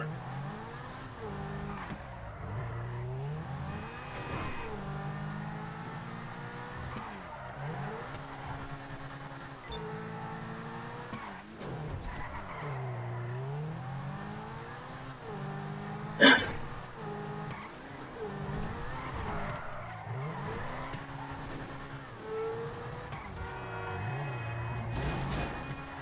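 A Zentorno sports car is driven hard in a video game, its engine repeatedly surging and dropping in pitch through gear changes and slides, with one sharp bang partway through and no talking.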